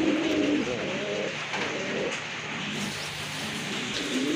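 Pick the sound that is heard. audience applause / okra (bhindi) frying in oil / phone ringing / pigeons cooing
pigeons cooing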